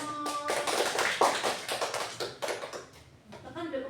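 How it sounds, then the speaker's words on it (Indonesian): Classroom group claps for a presenting team during a microteaching lesson, a scattered burst of hand claps filling about three seconds and thinning out at the end, with a voice briefly heard near the close. "bisa beri tepuk tangan untuk kelompok Nino"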